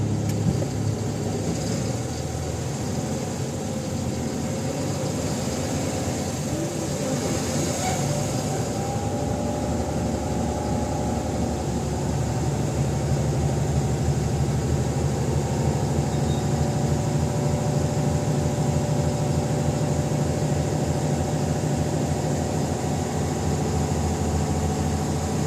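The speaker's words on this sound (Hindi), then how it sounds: "तो धीरे रेस करें, धीरे धीरे भी हम लोग गाड़ी गर्म कर रहे हैं थोड़ा।" Mahindra Blazo BS6 truck diesel engine idling and revved gently to warm up, a steady low rumble with a slight lift in engine note partway through, close and continuous.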